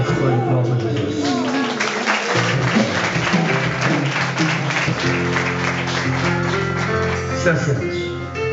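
A church congregation claps along during a worship testimony, steady applause blended with sung or spoken voices and instrumental music throughout.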